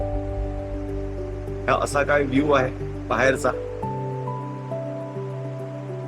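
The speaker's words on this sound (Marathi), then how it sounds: "पाण्याचा आवाज हा खळखळ येत असेल चांगला" A large river in Bhutan, swollen after overnight rain, makes a broad steady rushing roar throughout, with someone talking over it partway through.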